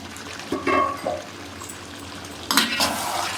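A spoon stirring Bengali chicken kosha in a pot over a lowered gas flame, two short bursts of scraping and clinking against a quiet low simmer.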